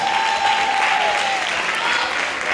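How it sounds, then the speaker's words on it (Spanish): A live audience applauds a jury member introduced at a flamenco and Spanish song competition show, dense steady clapping throughout with a held tone sounding early on. "cantaora, artista, bailadora, ese aplauso para Inma Montes."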